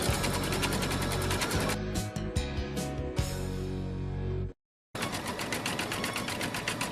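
A BabyLock Ellagante2 sewing machine stitches a design with a fast, steady mechanical chatter that shifts pace partway through, then stops for a moment of silence before the stitching resumes.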